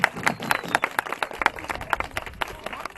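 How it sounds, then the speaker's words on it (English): A small audience claps in a quick, uneven patter after a baby bald eagle lands on a handler's glove at a live bird show, moderately close and fairly soft, with brief voices mixed in. "let's give him a round of applause"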